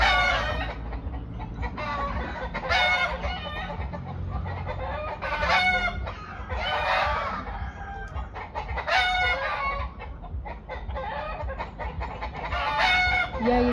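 Chickens clucking and crowing steadily at close range, busy overlapping calls filling the whole stretch with a rooster's crow standing out now and then, heard while someone eats balut.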